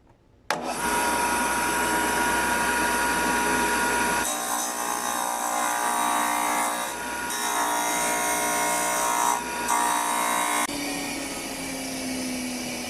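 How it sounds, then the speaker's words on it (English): A power sander whines steadily as draft is sanded onto the wide end of a foundry sand-rammer tool part, a loud continuous motor drone with shifts in pitch as the tool presses and lifts. "now I'm going to sand draft on the fat end"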